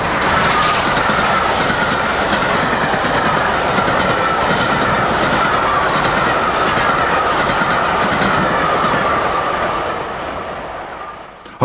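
A GWR King class steam locomotive works hard eastbound up the Sapperton Bank incline, a loud continuous roar of exhaust and rolling stock holding steady before easing off near the end, with no voices.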